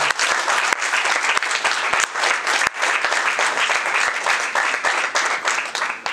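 A large audience bursts into dense, sustained applause at a public event about women's self-reliance, many hands clapping loudly and continuously for several seconds with no voices rising above it.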